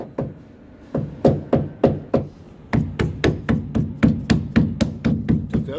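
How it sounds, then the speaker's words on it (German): A small hammer taps a rubber tailgate seal onto the thick doubled sheet-metal edge of a VW Amarok pickup, about twenty sharp close knocks in uneven clusters, each ringing briefly. "Dazu nehme ich dann einen kleinen Hammer."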